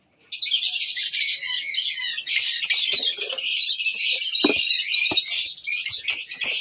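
Lovebirds in breeding cages chatter and chirp in a loud, dense, unbroken stream of high twittering calls, close by, with a few scattered clicks and knocks underneath.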